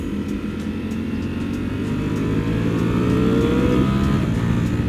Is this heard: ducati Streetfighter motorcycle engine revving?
yes